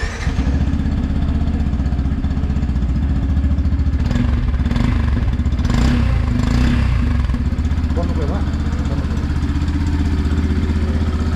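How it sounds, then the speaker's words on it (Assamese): A Yamaha FZ-X neo-retro motorcycle runs close by, its exhaust idling with a low, steady throb and rising in a few short throttle blips midway before settling back to idle. "বাইকৰ এক্সজষ্টটো আপোনালোক অকণমানকৈ শুনাই দিলোঁ"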